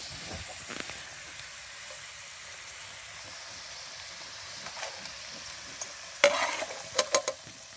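Potatoes and peppers fry in olive oil over a wood fire, a soft steady sizzle and hiss, with a few light stirring sounds and a burst of sharp clattering scrapes near the end.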